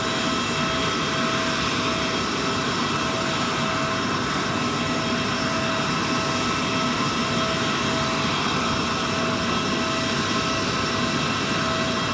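Aircraft jet engines after a plane has landed in Doha, Qatar: a loud, continuous, steady roar and whine with no break, heard close and alone.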